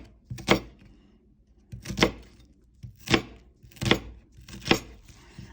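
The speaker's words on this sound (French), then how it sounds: "Alors je vous remonte pour l'oignon. On le divise d'abord en 2." A knife chops through a peeled onion on a cutting board while courgettes à la provençale are prepared, giving five sharp, evenly spaced cuts at close range with no talk over them.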